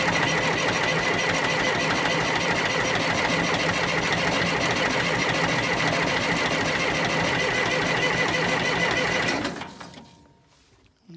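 A John Deere 401D tractor that won't start cranks on its starter for about nine seconds in a steady, fast rhythmic whir, then cuts off abruptly.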